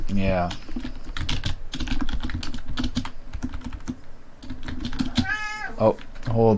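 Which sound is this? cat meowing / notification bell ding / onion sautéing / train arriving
cat meowing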